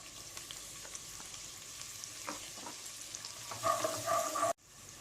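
A medium finely chopped onion sizzles and crackles in a hot pan, with a brief scrape of stirring near the end. It is quiet and steady.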